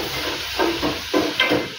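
Chopped tomatoes dropped into hot oil in a pan while making upma, a close steady sizzle with a few stirring scrapes and spatula pushes breaking through, no talking.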